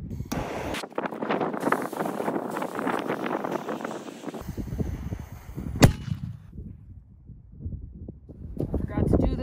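A test barrel, octagon-shaped, fires a standard powder charge loaded with a double ball, giving one sharp, loud report near the middle of the clip amid steady outdoor wind noise and background rumble.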